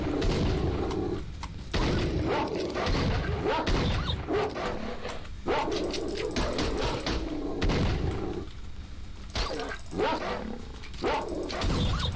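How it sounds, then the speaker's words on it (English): Pseudo dogs, mutant dogs in the S.T.A.L.K.E.R.: Shadow of Chernobyl video game, bark and snarl in bursts amid dense, continuous game noise that also holds what may be gunfire. "Oh, there's some dogs in the background there."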